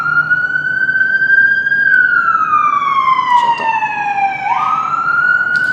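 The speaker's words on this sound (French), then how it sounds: "Et là on entend les sirènes parce qu'on entend toujours les sirènes à New York." An emergency siren wails loudly nearby on a New York street, its pitch sliding slowly down and then sweeping back up, over a steady street hum.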